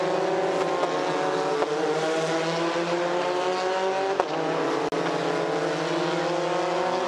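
Formula 4 race cars scream along a track in a 2017 F4 SEA race, a sustained high engine whine with shifting pitch as cars pass, loud and continuous with brief gear-change blips.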